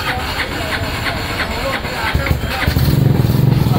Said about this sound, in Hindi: अभी इस वक्त हो गया पेट्रोल ख़त्म, लेकिन फिर भी इंजन स्टार्ट हो गया है